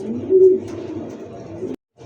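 Pigeons at a farm selling domestic and foreign breeds coo in low, throaty rolling calls, close and fairly loud for under two seconds before cutting off abruptly.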